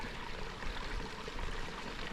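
Small stream running under a footbridge in Swedish fell country, a faint steady gurgle and trickle of flowing water, soft and continuous with no voices.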